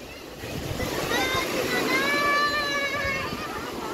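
Ocean surf at Juhu Beach in Mumbai washes in as a steady broadband roar with a gentle swell in loudness, mixed with wind and a high tonal hum from a passing aircraft overhead; people talk nearby.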